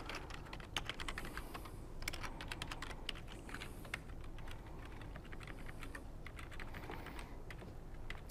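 Fast, steady typing of program code on a computer keyboard, with dense clattering keystrokes running throughout at close range and no talk.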